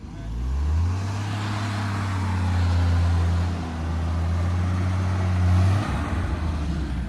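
A Jeep with an open differential revs its engine in a steady, loud low drone while trying to climb onto a car, holding one note for several seconds before cutting off near the end.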